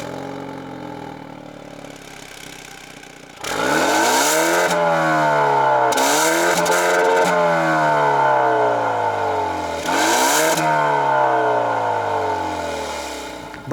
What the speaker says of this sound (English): the exhaust definitely sounds a little bit more aggressive for the Sport